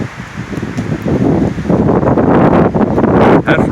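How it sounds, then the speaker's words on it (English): Strong west wind roars steadily over a campsite at Allatoona Lake, gusting at 40 to 60 mph, loud and continuous with buffeting on the microphone and rustling throughout. "That's right over my campsite there, this wind."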